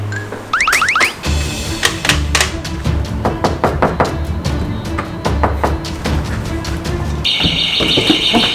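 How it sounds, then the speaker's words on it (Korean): An alarm going off, loud and insistent with repeated rising tones and rapid electronic pulsing, mixed with knocking and clatter, ending in a steady high-pitched beeping. "경보기 울리 소리 들려?"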